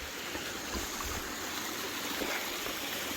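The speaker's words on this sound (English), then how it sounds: "I'm across another stream to cross." A stream on the Appalachian Trail in September flows steadily, a continuous broadband wash that stays even throughout, close and moderately quiet, with no voices.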